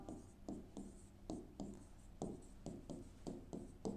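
Writing on a board during a history lesson, a steady run of short scratchy marker or chalk strokes in quick rhythmic bursts, close and clear, with no talk.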